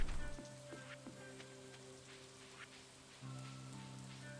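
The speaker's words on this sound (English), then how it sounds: "It's also raining on the 19th" Steady rain falls in the video game Stardew Valley, a soft continuous patter with faint droplet ticks over low game hum, fairly quiet and unaccompanied by speech.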